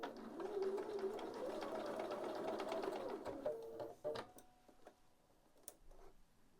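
A sewing machine stitches along fabric in a quick even whirring run for about three and a half seconds, then stops, leaving quiet clicks and taps; faint and close.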